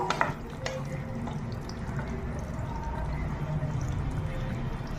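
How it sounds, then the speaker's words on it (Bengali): Potato dopiaza curry being stirred after half a spoon of garam masala goes in, with a soft steady simmering hiss and a few spoon scrapes against the pot, close and quiet with no speech. "গরম মশলার গুঁড়ো দিচ্ছি হাফ চামচ, দিয়ে নেড়ে নেবো"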